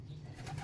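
A single pigeon gives a soft, low coo, faint and very brief, from a bird kept in a home loft.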